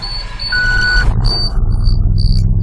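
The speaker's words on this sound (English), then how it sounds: "You hear the beeping sound, that is the air brakes." Repeated electronic warning beeps on a tender truck after the ignition key is turned on and the motor is started, signalling low air brake pressure; steady pulsing tones sound over a low engine rumble, close and fairly loud.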